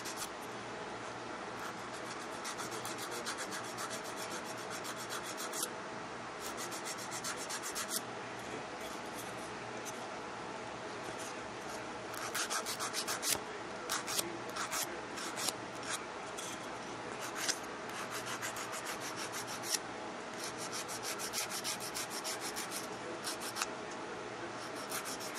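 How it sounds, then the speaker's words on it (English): A nail file lightly files and buffs a fingernail in a dip powder manicure, giving quiet, close, repeated scratchy rubbing strokes that come in bursts over a faint steady background hum. "it's time to lightly file and buff your nail"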